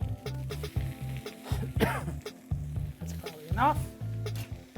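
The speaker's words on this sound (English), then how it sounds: "Stir that into our little mess there." Vegetables and tomatoes sizzle in a hot pan while being stirred, steady frying with scraping strokes, close and fairly loud, with a brief spoken remark.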